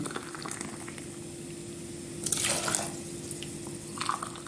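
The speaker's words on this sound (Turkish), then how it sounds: "3 su bardağı sıcak suyumu ilave yapıyorum" Hot water poured into a pot of sugar for syrup, a soft watery splashing that swells twice into brief louder bursts over a steady low hum, with no talking.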